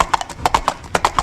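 Horse hooves clip-clop as a sound effect during a Tulu stage comedy performance, with about ten crisp, close hoofbeats in an uneven trotting rhythm and no talk over them.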